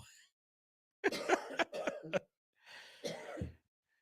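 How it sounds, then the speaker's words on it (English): Two close bursts of harsh coughing: a rapid run of several coughs, then a pause and a rougher, drawn-out cough. "so excited he started coughing"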